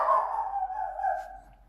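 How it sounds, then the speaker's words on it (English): A dog gives a single drawn-out, whining bark or yowl, fairly close and moderately loud, fading out over about two seconds with no talking. "gonna mute until my dog stops barking."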